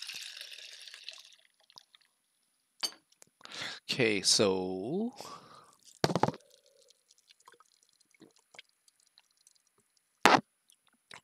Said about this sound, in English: Let me just pour myself some grape juice.